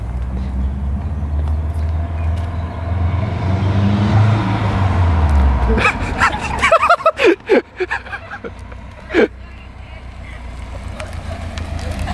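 A Subaru WRX launches off a two-step in a street drag race against V6 cars, engine building to a loud rising roar that then fades, followed by crackling pops and wind buffeting on the mic.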